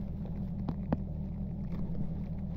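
A boat engine idles on the water during a winter smallmouth fishing trip, a low steady rumble close by with light wind noise and a couple of faint knocks.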